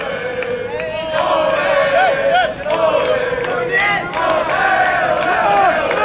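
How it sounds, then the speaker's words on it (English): A high school soccer crowd at a Brookline versus Somerville boys varsity match cheers and shouts, a dense, loud wall of voices swelling and holding across the moment. "That's the Brookline crowd here."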